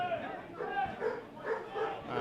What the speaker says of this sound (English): that's a very happy dog if it's an Emley fan. Barked over in the corner